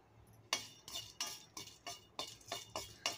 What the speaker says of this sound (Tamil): ஏலக்காவை சேர்த்து நல்லா வறுத்துக்கலாம்.